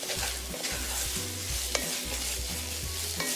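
Pumpkin cooking in a pan over low heat, with steady sizzling and a scraping spoon stirring through it, close and continuous with no talk.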